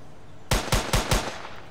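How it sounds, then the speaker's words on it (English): Four sharp gunshots from a sniper weapon in an Unreal Engine 4 video game fire in quick succession after a short silence, each a loud, booming crack with a brief tail. "We changed the gunshot sound."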